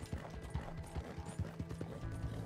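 Horse hooves clip-clop in Red Dead Redemption 2, a quick, steady trotting rhythm of close, soft hoof strikes heard alone.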